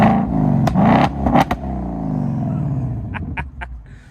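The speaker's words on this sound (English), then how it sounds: "that's how the remote rev sounds like on your 2024 Mustang GT" A 2024 Ford Mustang GT V8 revved by its remote rev feature gives sharp, loud blips, then a sustained deep rev that falls away, ending in a few crackling exhaust pops, close by with no talking.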